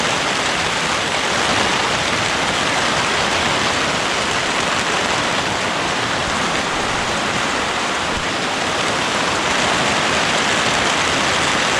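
Heavy rain pours down in a steady, loud hiss, a thick wash of noise with no letup and no voices.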